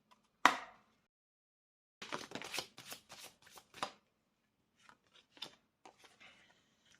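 A deck of cards is shuffled close up in a quiet room: one sharp snap, then a flurry of riffling flicks, followed by a few softer scattered taps as a card is drawn.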